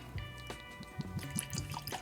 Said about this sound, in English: Pour a little bit. Sorry, I spilled a little bit.